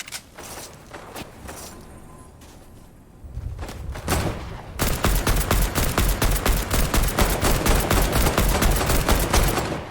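Fortnite Battle Royale gunfire: scattered shots and footsteps at first, then from about five seconds a loud, rapid automatic burst fires in a steady, evenly spaced stream of close, heavy reports.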